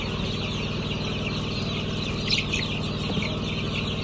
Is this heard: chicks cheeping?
yes